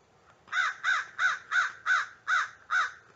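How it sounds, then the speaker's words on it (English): Crows caw outdoors in a steady series of seven evenly spaced calls, fairly close and loud over a quiet background. "The crows are coming through strong."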